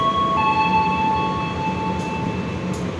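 The Sembrani passenger train rolls through a station in a steady loud rumble, with a high whining tone above it and faint brief squeals, close and continuous, with no voice.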